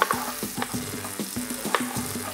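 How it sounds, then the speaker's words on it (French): Sausage sizzles and fries in a pan for a ragout of bananas, with a steady crackling hiss, small pops and stirring scrapes close by, and no talking. "Pendant que ma saucisse va commencer à colorer et à libérer tout son gras"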